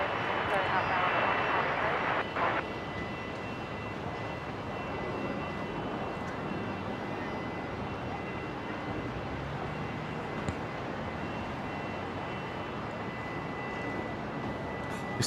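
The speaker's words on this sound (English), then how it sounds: "Jetstar 321 Neo taxiing out, ready for a departure to Auckland." A Jetstar Airbus A321neo jet taxis out for departure at Brisbane International Airport, its engines a steady, broad roar that holds evenly throughout, with a brief louder burst near the start.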